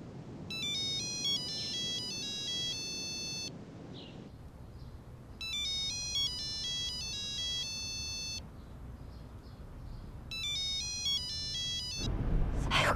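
A mobile phone rings with a bright synthetic melodic ringtone in three bursts of about three seconds each, separated by pauses, over quiet low background rumble, ending in a louder thump.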